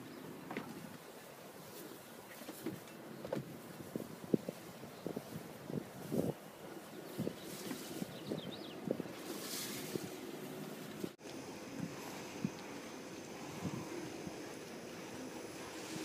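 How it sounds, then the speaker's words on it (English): Gusty, shifting wind buffets the microphone aboard a Jeanneau 57 sailing yacht being docked single-handed, faint rushing and irregular thumps of wind and water, with an abrupt dropout near the end. "The winds are a little shifty right now"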